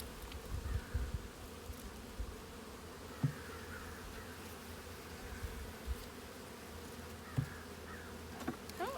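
Honeybees swarm around an open backyard beehive during an inspection, making a steady, soft, low drone of many wings close by, with occasional louder passes as single bees fly near, and no talking.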